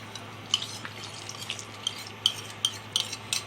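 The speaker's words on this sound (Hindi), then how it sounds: "अभी इसको थोड़ा थोड़ा थोड़ा थोड़ा करके डालेंगे और हिलाते जाएंगे।" Kulfi mixture being stirred in a pot while more is poured in, soft repeated scraping and clinking taps of a spoon against metal over a quiet background hiss.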